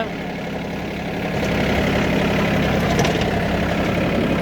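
A VST 932DI 30hp four-wheel-drive tractor engine idles with a steady low diesel chug, close by and fairly loud, rising slightly in level after the first second and holding even.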